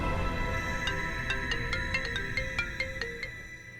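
A mobile phone ringtone plays a short melodic run of bright, evenly spaced tones over a low background hum, moderately loud and close, with no talking.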